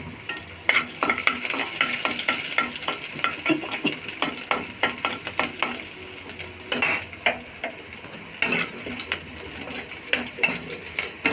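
Crushed garlic and a green chili fry in hot oil tempered with nigella seeds and dried red chili, a steady crackling sizzle broken by frequent sharp spatula scrapes and taps against the pan.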